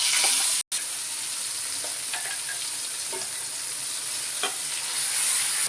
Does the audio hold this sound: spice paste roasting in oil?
yes